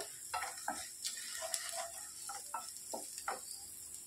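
Asafoetida and turmeric fry in hot oil in a pan, giving a faint, soft sizzle with scattered light ticks and stirring scrapes, close and without speech.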